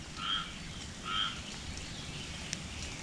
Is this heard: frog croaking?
yes